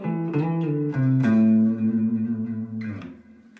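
Sustained electric guitar notes sliding up and down in pitch, with a bright, effected tone and a few plucked attacks.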